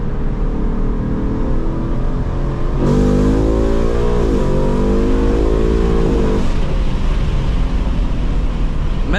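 A 2024 Mustang GT V8 with a cold air intake pulls hard under full throttle, its loud in-cabin engine note climbing steadily, dropping briefly at a gearshift, then climbing again before the revs fall off.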